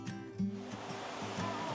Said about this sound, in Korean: 여기 시원하게 쏟아지는 폭포가 하나 있습니다